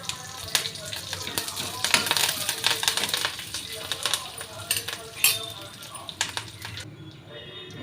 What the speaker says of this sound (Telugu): ఇప్పుడైతే పోపు అంతా ఫ్రై అయిపోయింది.